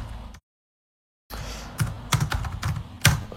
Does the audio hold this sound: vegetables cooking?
no